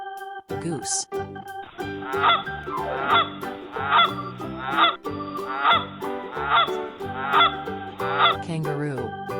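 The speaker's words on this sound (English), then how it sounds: "Goose." Goose honking in a steady series of loud, nasal honks about every half second, close and clear, after a few brief calls at the start.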